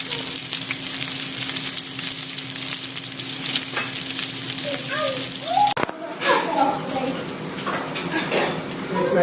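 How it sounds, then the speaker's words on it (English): A hand-formed patty frying in a pan, a steady broad sizzle with crackling pops and a few clinks of pans, with a voice talking over it. "and then pop it in the frying pan."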